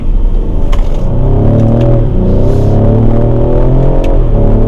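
A 2020 Ford Explorer ST accelerates hard, its engine roaring loudly from inside the cabin with rising pitch sweeps broken by quick, fast gear shifts, a sustained close rumble.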